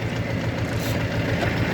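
A DTZ 5404 tractor pulling disc harrows across a damp field, its diesel engine giving a steady, loud, close low drone with constant vibration and no pauses.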